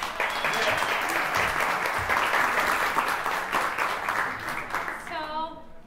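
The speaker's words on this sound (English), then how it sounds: "Just give him an applause" Audience applause at a voice student recital, sustained dense clapping from the crowd lasting several seconds before fading as a voice begins speaking at the end.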